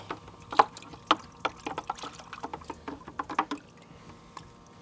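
Mud is rinsed off a Lightning OTF knife in a bucket of water. Close, irregular splashes, drips and trickles sound over a quiet background, with no talking.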